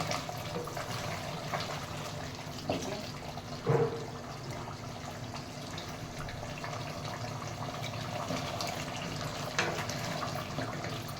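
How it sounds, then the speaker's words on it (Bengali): A steady stream of water pours into a cooking pot of browned beef curry, a continuous rushing splash with a couple of brief clunks. "এখন পানি দিয়ে দিব মাংসে।"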